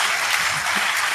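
A crowd applauds at a religious gathering in a brief, dense, continuous burst of clapping that fills the whole moment without a break.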